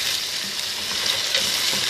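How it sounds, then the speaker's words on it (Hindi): Chicken fries in a pan for a desi chicken kunna curry, giving a steady close sizzle with faint stirring scrapes across the whole stretch, no voices. "अब इसके साथ हम इसको थोड़ा सा भूनेंगे।"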